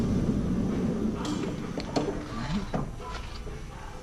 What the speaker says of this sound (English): Get the rear sliding doors.